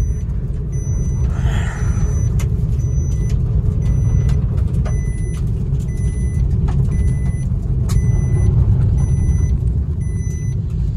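A 2024 Maruti Wagon R drives and accelerates hard, a steady loud engine and road rumble filling the whole stretch, with faint high ticking and brief tonal beeps riding above it.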